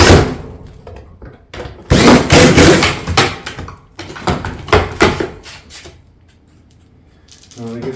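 Fasteners are driven into metal valley panels of a barrel vault tile roof in bursts of loud, whirring, rattling screw-gun action, several runs separated by short pauses, close by and without talk.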